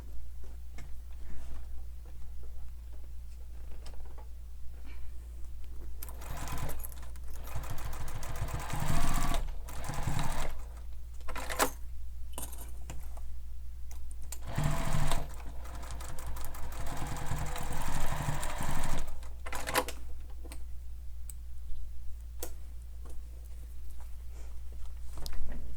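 A sewing machine stitches a fabric sling pack in several loud, rapid, rattling bursts separated by short pauses, over a steady low hum, close up and with no talking.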